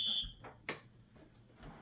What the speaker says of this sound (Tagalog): Okay, my alarm is on.